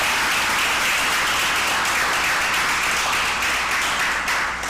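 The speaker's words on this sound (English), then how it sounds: "I think it deserves a lusty round of applause." Audience applause at a primary school games launch, a dense steady wash of many hands clapping that holds loud for several seconds and then eases slightly.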